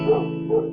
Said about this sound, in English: Sorry about my dogs. They're barking.